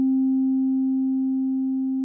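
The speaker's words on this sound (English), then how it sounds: "completely turned to the right, we've got the low pass filter open all the way and we also hear a sine wave." An OP-1 Field synthesizer plays a pure, steady low sine tone with the low pass filter fully open. The tone holds one pitch alone and fades very slightly over two seconds.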